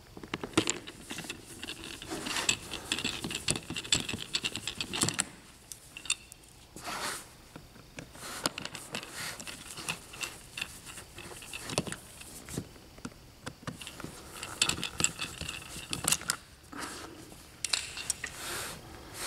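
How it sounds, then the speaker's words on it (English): Two screws are backed out of a Canon FX8 toner cartridge during a refill, giving close, intermittent small clicks, scrapes and light rattles of a screwdriver against plastic, with quiet pauses between. "Remove the two screws."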